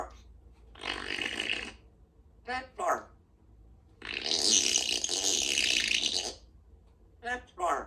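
A parrot makes two long, raspy, burp-like noises, each a second or more, with short chirpy vocal bursts in between, close and fairly loud.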